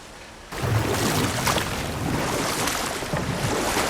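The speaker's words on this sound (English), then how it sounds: "Waterfalls. We're close." Rushing waterfall in God of War Ragnarok: a steady, full roar of falling water that swells in abruptly after a brief quiet start and then holds constant and close, with no voices over it.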